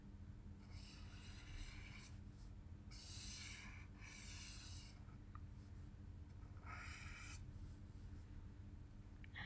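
Chisel-nib W1 and W2 markers rub across paper while blending in soft, scratchy strokes, several short swipes, quiet and close with no talking.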